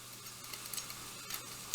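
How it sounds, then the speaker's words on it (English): Chicken sizzles in a pan for a Tuscan chicken penne alfredo, a faint, steady hiss broken by small crackles and ticks, with a sharp clink at the very end. "Chicken is sizzling in the background."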